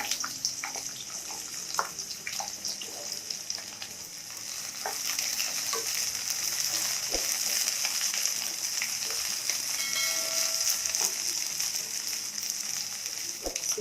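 Brinjal pieces frying in hot oil in a pan for a brinjal tomato chutney, a steady close sizzle running throughout with a few stirring clicks and scrapes.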